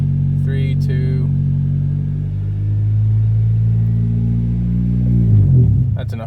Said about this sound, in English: When I rev the motor, it'd probably go up some.